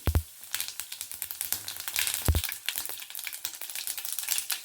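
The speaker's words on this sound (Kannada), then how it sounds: "ಇವಾಗ ಸಾಸಿವೆ ಮತ್ತು ಜೀರಿಗೆನ ಹಾಕ್ತಾಯಿದ್ದೀನಿ." Mustard seeds and cumin sizzle and crackle in hot oil, giving a close, busy stream of popping spatters with a few sharper bursts and no talking.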